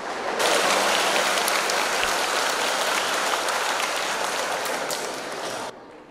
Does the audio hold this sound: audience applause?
yes